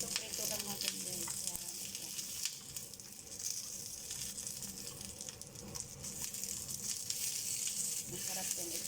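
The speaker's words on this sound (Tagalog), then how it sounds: "Prito lang natin guys." Continuous sizzling and spattering from pork frying in a pan for kaldereta fills the scene, with scattered pops and a faint voice now and then beneath the hiss.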